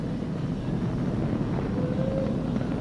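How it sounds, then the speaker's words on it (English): SpaceX Falcon 9 rocket carrying the crewed Dragon capsule climbing after launch from Kennedy Space Center, a loud continuous low roar and rumble with wind buffeting, steady and unbroken throughout. "Flying crew on board Dragon and Falcon 9, and look at them go."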